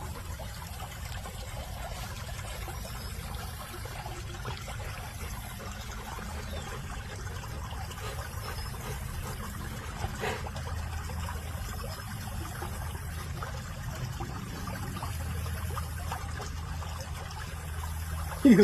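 Stream water in a mountain valley flows and trickles steadily, a continuous soft rushing with faint splashes, heard alone without talk.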